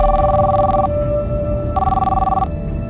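A telephone rings in two clear electronic bursts separated by a pause, close and loud, with no talking over it.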